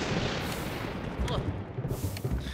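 Dense, continuous booming and rumbling, like heavy drums being pounded steadily in a ghostly music room in Luigi's Mansion, loud and sustained throughout with no clear pauses.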